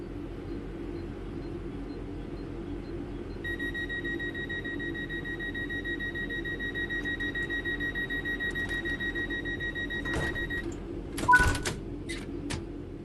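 Train doors closing in the Train Sim World 4 video game on PS5: a steady two-tone door warning chime sounds for several seconds over a low carriage rumble, ending in a couple of sharp mechanical clunks as the doors shut.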